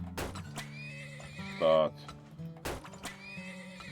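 In the oil-drilling video game Turmoil, bought horses neigh in two loud bursts with clip-clop hooves, and someone talks over and between the game sounds.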